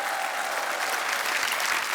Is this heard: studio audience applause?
yes